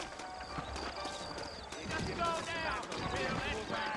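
Horse hooves clip-clop steadily in a Western setting in Red Dead Redemption, with a horse-drawn wagon or mounts moving at a walk while people talk over it throughout.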